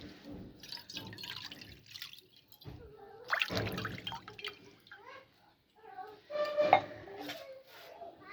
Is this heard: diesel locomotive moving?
no